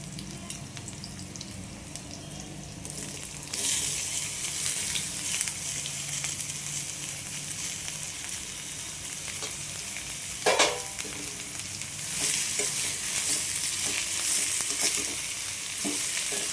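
Small cucumber pieces for a Kannada-style palya fry in a pan, a constant close sizzle that swells louder as they go in, with scraping stirs throughout.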